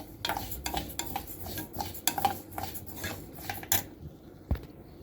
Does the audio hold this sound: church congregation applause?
no